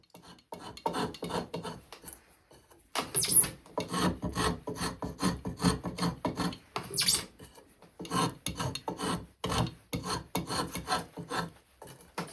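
A spokeshave with its blade set deeper shaves a round wooden tenon on a foot stool by hand, giving a steady run of rhythmic rasping strokes, close and fairly loud.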